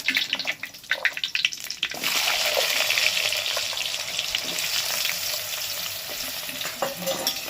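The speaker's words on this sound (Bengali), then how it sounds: "দেখো আলুটা পুরো এরকম লাল করে ভেজে নিতে হবে" Diced potato cubes fry in plenty of hot oil in a pan, a steady dense sizzle lasting throughout with a few stirring scrapes and clinks early on, close and fairly loud, no voices.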